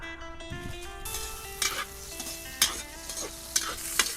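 Oil sizzles in a pan for frying garlic and onion, with a soft steady hiss broken by sharp clinks of a utensil stirring at roughly one-second intervals, close and quiet.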